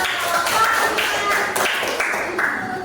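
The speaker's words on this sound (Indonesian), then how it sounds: "tepuk tangan dulu" A group of participants in an Indonesian teacher training session clapping hands together, a steady patter of many claps in a room.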